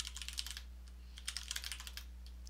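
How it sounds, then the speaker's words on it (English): Typing on a computer keyboard while coding a JsonPath string in IntelliJ IDEA: quick bursts of light, close clicking keystrokes in two runs separated by a short pause, over a steady low electrical hum, with no voices. "One option would be to just type in the string itself, like this"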